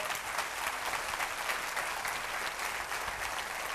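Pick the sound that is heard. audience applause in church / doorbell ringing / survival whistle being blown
audience applause in church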